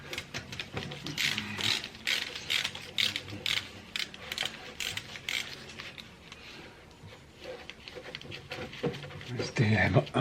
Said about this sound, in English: I already got the socket ready to slacken this